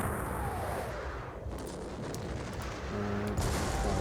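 Artillery fire in a Napoleonic-era wargame of the Battle of Eylau: a dense, continuous rumble of distant cannon and musketry booms rolling steadily throughout, with a few sharper reports near the end.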